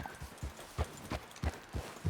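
Horse hooves clip-clopping at a walk in the video game Red Dead Redemption 2, soft evenly spaced thuds about every third of a second, fairly quiet and with no talk.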